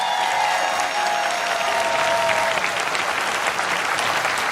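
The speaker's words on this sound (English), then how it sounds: "Let's give SEIU a round of applause." A crowd at a political town hall rally in Bakersfield breaks into sustained applause, a dense, loud wash of clapping that holds steady throughout with faint cheering mixed in.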